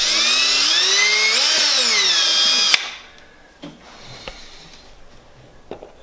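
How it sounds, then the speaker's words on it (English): A power drill with a 1/8 inch bit bores into PVC, its motor whining loudly and steadily for under three seconds with a brief pitch dip, then stops, leaving faint handling clicks. "we're going to grab our drill with our 1/8 inch bit. Now we're drilling into PVC"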